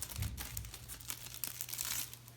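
Kickstarter-exclusive card packs for the Old School Tactical Volume 2 board game being torn open, a soft close crinkling and rustling of wrapper, quiet and alone.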